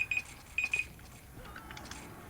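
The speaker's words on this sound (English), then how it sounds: "And you guys are gonna hear a beep, beep, beep, beep, beep." A repeating electronic timer beep in the online game EverQuest, several short high tones in quick pairs, faint within a quiet background.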